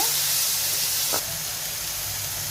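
Chopped carrot and other vegetables for a sandwich filling are fried in a pan with a continuous close hiss and sizzle. A brief stirring scrape sounds midway, with no speech.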